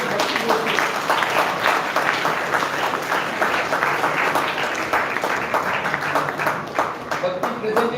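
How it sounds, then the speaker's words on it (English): A hall audience claps for a school commerce faculty topper at a felicitation, dense steady applause with distinct individual claps, close and loud, holding evenly for several seconds with a few voices mixed in. "Give a big round of applause to Bhakti Bhosle"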